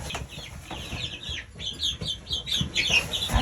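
Young ducklings in a new enclosure keep up busy, high peeping and chirping throughout, with soft rustling and shuffling underneath, close by and fairly quiet.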